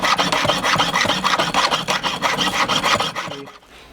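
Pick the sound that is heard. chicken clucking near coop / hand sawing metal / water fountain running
hand sawing metal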